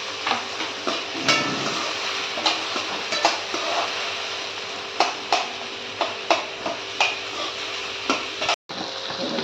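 Tomato, potato and cauliflower sautéing in a pan under a steady background sizzle, with a spoon scraping and tapping in a regular rhythm close by. No one speaks.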